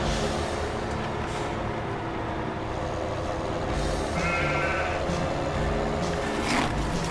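Sheep bleat around a pen in Farming Simulator 2017, a steady bleating chorus over the continuous hum of an old tractor, with an occasional higher call standing out.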